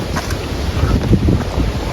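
Cold wind blows through a forest at Matheran, India, a loud, steady buffeting rush across the microphone with no other clear sounds.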